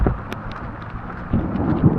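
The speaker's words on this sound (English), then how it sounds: "it's like storming and lightning" A thunderstorm in New Orleans rumbles with low, rolling thunder over steady rain, the rumble swelling louder toward the end, loud and close with no voices.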